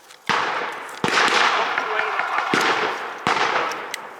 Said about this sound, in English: German mortar.